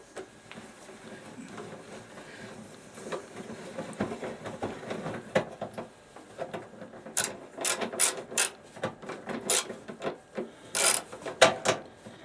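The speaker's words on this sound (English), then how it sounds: "You gotta take these stars out here, bolts, to get the seat off." Ratchet clicking in quick bursts near the end as Torx star bolts are backed out of the seat mount on a Cub Cadet GT 3200 garden tractor, preceded by quieter rubbing and handling noises.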